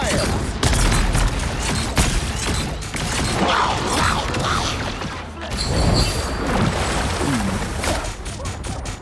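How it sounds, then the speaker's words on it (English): Rockets firing in the hero shooter Marvel Rivals, a burst of rapid booming launches and crashing impacts mixed with mechanical clanks and game sound effects, loud throughout. "Rockets, fire!"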